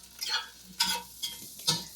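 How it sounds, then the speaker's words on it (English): Spiced vegetables with potatoes being stirred in a pan for an Italian-West African eggplant caponata, four distinct scraping strokes with soft sizzling beneath, close and fairly loud, no voices. "So stir everything together again."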